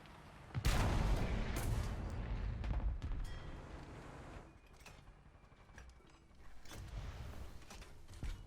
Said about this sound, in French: C'est quoi ça qui a explosé?